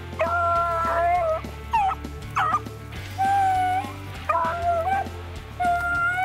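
Four rabbit-hunting dogs bay and bark in a chase, their overlapping howling yelps rising and falling in bursts over a steady low hum, fairly close and loud with no talk.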